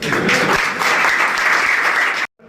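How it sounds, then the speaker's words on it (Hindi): A crowd claps steadily and loudly, a dense burst of applause that stops abruptly near the end. "ताली बजा दो एक बार।"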